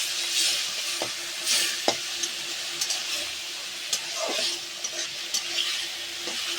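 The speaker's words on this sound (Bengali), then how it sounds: "এবার আমি লাউ শাকটাকে ঢেলে দেব" Bottle gourd greens cooking in a sizzling pan with prawns, a continuous bright hiss broken by several short clicks and scrapes of stirring, close and fairly loud, with no talking.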